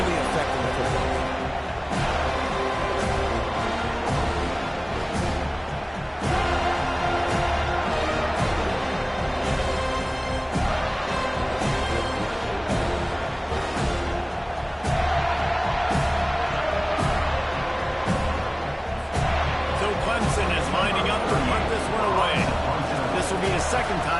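A loud football stadium crowd roars and cheers steadily throughout a game, a dense wall of noise with bursts of whoops.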